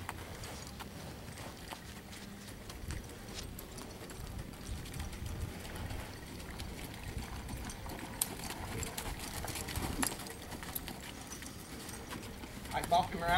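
Horse hooves clip-clopping steadily on the ground during flexion training, a rider's close voice talking over the rhythmic footfalls throughout.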